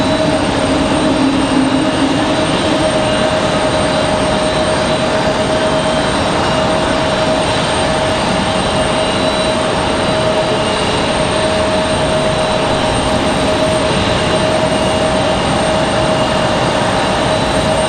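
An Icelandair jet takes off from the runway at Raleigh-Durham airport, heard as a loud, steady engine roar with a droning whine, constant for the whole stretch with no voices.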